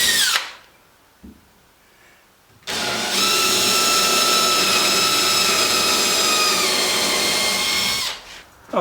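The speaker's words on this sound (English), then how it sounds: "I'm just going to drill larger size with my depth set on." A power drill whines loudly and steadily for several seconds, preceded by a brief quiet stretch with a short burst at the start.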